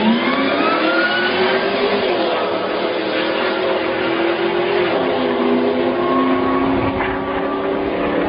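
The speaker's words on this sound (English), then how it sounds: "This video is of a Whipple twin screw supercharged Ford Lightning." Whipple twin-screw supercharged Ford Lightning engine running hard, a loud, sustained roar whose pitch rises and falls through revs with a supercharger whine on top, close and continuous with no talk.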